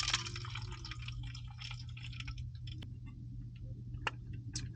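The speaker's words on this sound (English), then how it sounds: "with the old cup of ice, which isn't completely melted, we can fill a water bottle" Partly melted ice water from a cooler cup is poured into a water bottle, giving faint, irregular trickles and drips over a low steady hum.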